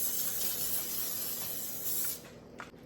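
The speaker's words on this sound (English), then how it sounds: "butter works, but this is easier. Olive oil spray." Olive oil cooking spray mists over a crab stuffing topped with crushed crackers, a steady close hiss lasting about two seconds before cutting off, followed by a few faint kitchen clicks.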